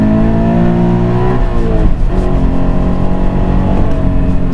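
A stock car engine revs loudly and up close, its pitch climbing and falling through a few throttle sweeps with a strong low rumble and no talk.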